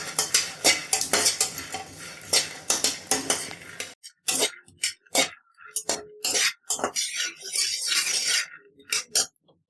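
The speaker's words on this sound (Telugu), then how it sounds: "ఇక్కడ నేను శనక్కాయలు వేపుకుంటున్నాను" Peanuts roasting in a pan, stirred with a spatula: repeated scraping and clinking of metal on the pan, dense at first, then sparser, separate strokes with short pauses between them. No one speaks.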